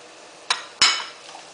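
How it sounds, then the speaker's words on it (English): Onions go into hot grapeseed oil in a pot over medium-high heat: two quick clattering drops close by, the second heavier, each trailing off into a short hissing sizzle. "now I'm going to add in my onions, being very careful so that the oil doesn't splash on me"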